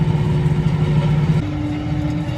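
Farm tractor engine running in a field during disking and sowing, a steady low droning hum with a slight pitch shift partway through, close and continuous.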